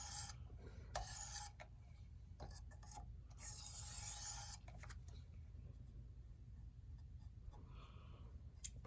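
Knife blade rasping across an abrasive stone on a Jende sharpening jig, a few rough strokes in bursts near the start then quieter scraping and pauses, with no talk.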